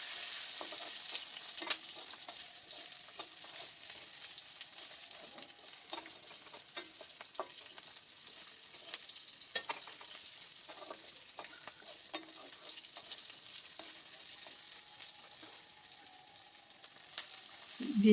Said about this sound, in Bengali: দিয়ে দিলাম কাঁচা লঙ্কা, ওটাকেও ভেজে নেব।